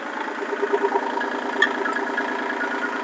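A Kubota tractor engine idles steadily while the loader is being detached on level ground, a continuous mid-pitched rumble heard close up with a brief clink partway through.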